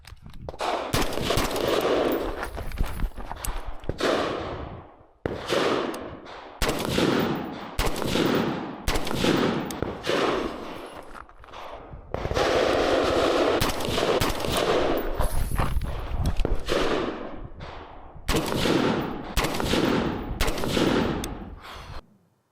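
A PSA Guardsman compact pistol fires at a range in rapid bursts of loud, close shots separated by short pauses, continuing steadily for over twenty seconds with no talking.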